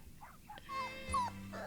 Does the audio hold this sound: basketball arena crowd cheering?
no